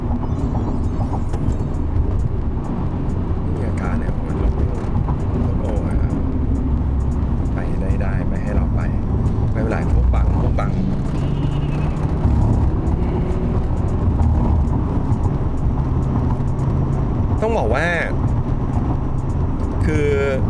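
Nissan Skyline GT-R R34 V-Spec II Nür in stock form, its engine droning steadily throughout while being driven hard through corners, with people talking over it.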